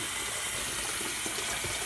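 Water pours steadily into the tub of a Kuppet twin tub portable mini washing machine, a close, continuous rushing gush with no pauses.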